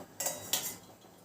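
Rice cooking in a pot is stirred with a metal spoon, giving two quiet, brief scraping clinks against the vessel in an otherwise calm kitchen.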